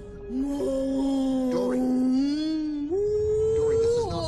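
A woman imitates whale song, drawing out a long, wavering, groaning moan with rising and falling pitch, loud and close, with a few breathy shifts in tone.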